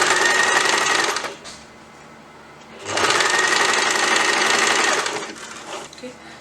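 A sewing machine stitches tulip sleeve fabric in two loud bursts of steady whirring, separated by a quieter pause and trailing off into softer, intermittent runs.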